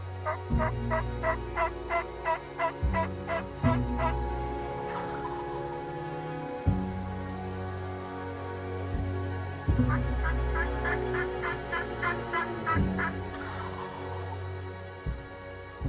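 Several wild turkeys gobble in loud, rattling bursts at a field edge at dawn, repeated calls overlapping from different distances, with a steady low rumble underneath.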